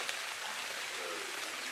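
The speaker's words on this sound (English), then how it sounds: "I hate rain" Steady rain falling in the ARK survival video game, a constant even hiss of droplets with no voices.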